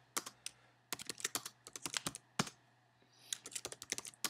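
Computer keyboard typing in quick irregular bursts of keystrokes, close and clear over a low steady hum, with a brief pause before the clatter resumes.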